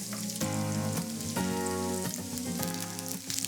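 Noodle-dish vegetables or toppings frying and browning in an oiled pan, a close, continuous sizzle with a few stirring bumps, heard under bright background music.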